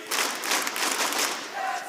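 Crowd at an esports event for the Rainbow Six Siege-style match between EG and Rogue, a steady roar of cheering and shouting filling the whole stretch, loud and dense with a faint tone near the end.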